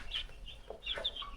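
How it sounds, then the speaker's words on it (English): Zambro improved village chickens clucking in short, soft bursts nearby, a few brief calls in just over a second with no voices. "these are Zambro again, Zambro chickens, Zambro improved village chickens"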